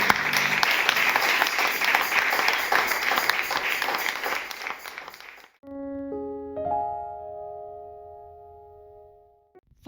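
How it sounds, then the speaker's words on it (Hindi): A church congregation at a Sunday service applauds in a steady, full burst for about five seconds, then it cuts to a sustained synthesizer-like musical tone. "हर एक जन एक उत्तम ताली केवल यीशु मसीह के लिए बजाएंगे"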